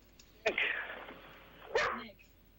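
A dog barks twice over a phone line during a live sports talk radio call-in, each bark short and sharp with a thin telephone tone and a gap between them.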